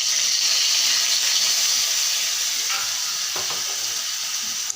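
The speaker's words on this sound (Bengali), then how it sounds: "মশলাগুলো আমার ভাজা হয়ে যাচ্ছে।" Spices fry in a pan with a continuous bright sizzle that slowly eases, broken by a couple of light stirring clinks.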